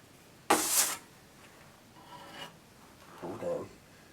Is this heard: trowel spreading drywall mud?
yes